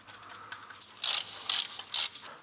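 A ratchet bolts a belt roller in place on a Mercedes CLS engine during a water pump replacement, giving three crisp, close clicking bursts after a faint start.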